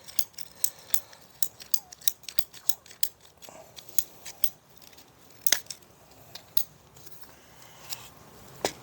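Scissors or pipe cutters snip through plastic sprinkler line pipe in a repeated series of sharp, crisp cuts, close and fairly quiet, with short pauses between snips and no talking.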